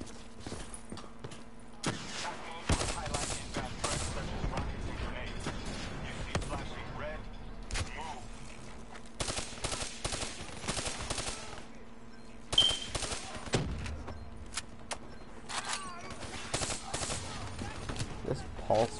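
Rapid pulse rifle fire in a co-op video game campaign, repeated automatic bursts and shots crackling through the whole stretch, with someone talking over the shooting.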